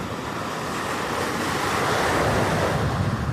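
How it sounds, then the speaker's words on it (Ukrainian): Rough sea on the Italian coast, with heavy surf rolling in and gusting wind buffeting the microphone, a loud continuous roar that swells slightly toward the end. "Італійське море."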